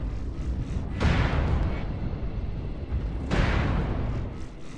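Incoming missiles slam into a Cataphract CTF-3L(L) mech in MechWarrior Online, two loud rumbling explosive impacts about two seconds apart over a constant heavy battle roar.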